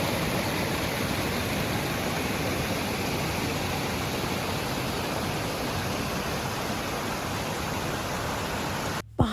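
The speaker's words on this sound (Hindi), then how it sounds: "मतलब पूरी शांति में ये बस पानी की आवाज़" Mountain river water rushing through a quiet valley, a loud, unbroken broadband roar heard close and alone, ending with a brief cut and knock.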